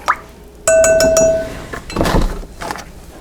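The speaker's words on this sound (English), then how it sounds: "I'm going to add 1 tablespoon of canola oil and get that in there" A tablespoon of canola oil goes into corn-free rye bread dough: a sharp metallic clink with a ringing tone, then a soft wet plop and faint clatter, close up with no talking.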